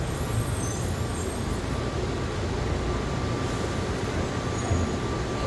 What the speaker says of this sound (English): This train is stopping.